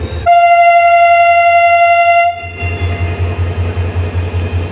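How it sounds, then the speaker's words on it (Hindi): The Shah Latif Express, 152 Down, departs Karachi Cantt station: a loud sustained locomotive horn with strong harmonic tones blares for about two seconds, then gives way to a steady low rumble of the moving train. "one fifty to down departure कर रही है"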